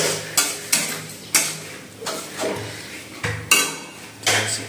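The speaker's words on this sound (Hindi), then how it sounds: "पेस्ट डालने के बाद अब इसको भूनेंगे नमक वमक डाल के सब कुछ।" Ginger garlic paste with salt being sautéed in a pan, heard as a series of sharp metallic spatula scrapes and knocks against the pan, roughly one every half second, close and loud over a faint sizzle.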